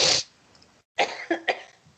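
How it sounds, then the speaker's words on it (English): A person coughs several times close to the microphone, one sharp burst followed by a short run of rougher coughs after a brief silence. "now I have to cough."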